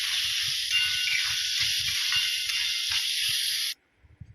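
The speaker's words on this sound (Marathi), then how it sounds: "आता हा कांदा छान असा परतून घेऊया." Chopped onion frying with garlic in a hot pan, a loud, steady hiss and sizzle that cuts off sharply near the end, leaving low clatter behind.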